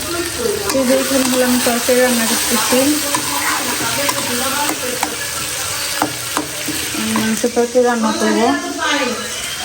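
Meat frying and being stirred in a pan, with a steady loud sizzle and repeated scraping stirs throughout, under a voice talking over it.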